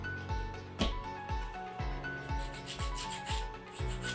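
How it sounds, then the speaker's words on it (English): A 180 grit nail file rubs back and forth across fingernails in steady, even strokes, roughly two per second, close and clear with no talking. "take a nail file of 180 grit, and you're going to file the nails"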